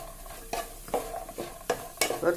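Onions frying in a pan are stirred with a spoon, giving rhythmic scraping strokes roughly every half second over a soft steady sizzle, close and clear, no talking.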